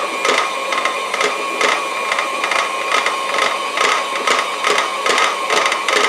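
Electric hand mixer beating sugar cookie dough as the last of the flour is worked in, a steady whirring motor with rhythmic clattering of beaters against the bowl, close and continuous without talk.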